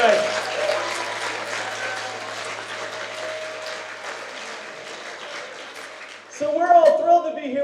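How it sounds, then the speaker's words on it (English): An audience gives a sustained round of applause at an evening League of Women Voters civics bee, the dense clapping holding steady for several seconds before a voice comes in near the end. "give the League of Women Voters a great big round of applause"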